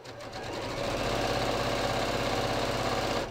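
Sewing machine stitching the center back crotch seam of a pair of trousers, a steady close motor hum with a rapid needle rhythm running continuously after a brief start.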